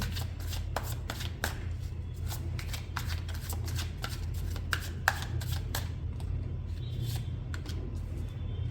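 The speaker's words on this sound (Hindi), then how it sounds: "जब तक मैं कार्ड शफल कर रही हूँ" Tarot cards are shuffled by hand in a steady run of crisp riffles and slaps that carry on throughout, close and moderately loud over a low background hum.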